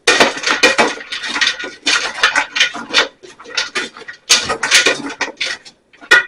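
Parsley being mixed through food in a bowl with a utensil, giving repeated scraping and clinking strokes in uneven bursts, fairly close and loud, with short pauses between.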